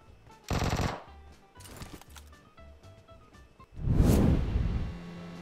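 Video game gunfire in a shooter, with two loud bursts: a short rapid volley early on and a heavier, longer blast later, separated by quieter clicks and game effects, with no talking.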